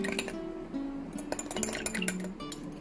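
A spoon clinks repeatedly against a cup while food colouring liquid is stirred into water, producing light, quick metallic taps in an irregular rhythm close by, with no talking.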